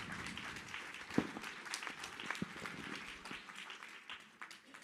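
Faint, scattered audience applause for a speaker at a public debate event, sparse distant claps with a few sharper hits, fading toward the end.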